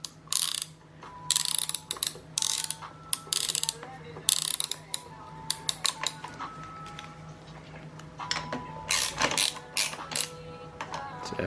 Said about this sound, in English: when you're tightening these down that it goes on evenly